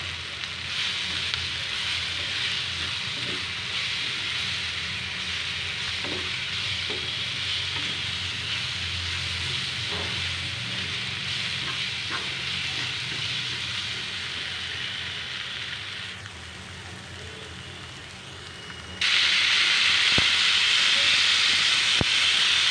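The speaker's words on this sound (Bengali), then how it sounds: "মরিচ গুঁড়ো, পেঁয়াজ কুচি, আদা রসুনের পেস্ট, কাঁচামরিচ সব কিছু দিয়ে মশলাটাকে কষিয়ে নিচ্ছি।" Spice paste of chili powder, chopped onion, ginger-garlic paste and green chilies frying in a pan, a steady close sizzle with occasional stirring clicks, briefly quieter before turning louder and brighter near the end.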